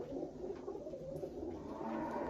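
Pigeons in a loft give soft, low cooing calls against a steady background murmur, close but fairly faint.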